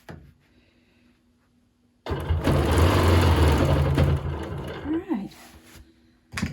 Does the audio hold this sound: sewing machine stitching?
yes